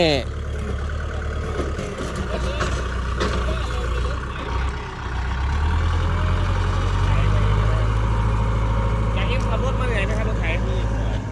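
A tractor engine runs steadily at a low, chugging idle, then its rumble rises and holds louder, close by, while people talk over it.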